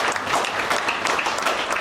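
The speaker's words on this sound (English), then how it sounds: "Give a round of applause for just doing that." Applause from the audience at a live sailing podcast recording fills the room as a dense, steady wash of many hands clapping at once, with no speech over it.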